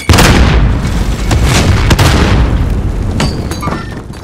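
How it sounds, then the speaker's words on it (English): Grenade blasts in Call of Duty, several loud, booming bursts over a continuous roar of gunfire and battlefield rumble. "Grenade out!"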